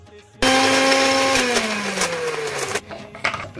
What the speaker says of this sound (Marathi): ते मी मिक्सरला वाटून घेते